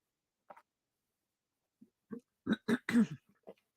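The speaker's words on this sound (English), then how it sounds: "Sorry for clearing my throat." A quiet throat clearing, a few short gruff rasps close to the microphone, preceded by faint small noises in an otherwise silent room.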